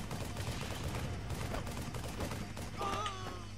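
Gunfire in a Bungie video game rattles in rapid repeated bursts, a dense stream of shots at fairly low volume with a brief tonal game sound near the end.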